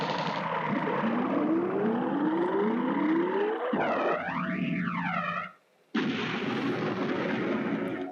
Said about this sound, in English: Fire the ball cannons.